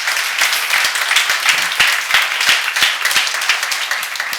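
A church seminar audience bursts into steady, dense applause, many hands clapping close and evenly throughout with a few sharper individual claps standing out, no talking over it.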